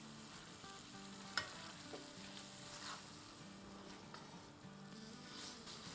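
About a kilogram of minced mutton for green keema sizzles steadily in a hot pan while being stirred, with scraping stir sounds over continuous close frying crackle.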